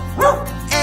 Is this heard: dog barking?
yes